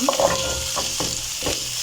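Garlic sizzles in a pan for a beef stew, a steady close-up frying hiss broken by a few scraping stir strokes of the spoon, with no talking.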